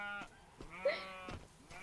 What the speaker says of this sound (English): I have found two more sheep!